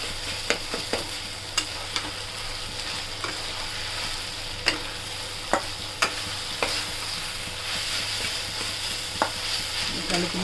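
Fish roe frying with garam masala paste in a pan, stirred steadily: a constant close sizzle broken by sharp scrapes and taps of the spoon against the pan, with no talking.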